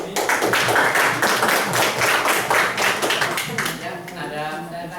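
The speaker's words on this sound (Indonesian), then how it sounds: "Tepuk tangan dari sini." Clapping from an audience at a Prudential event: a loud, close burst of many hands that gradually thins out toward the end, with some voices mixed in.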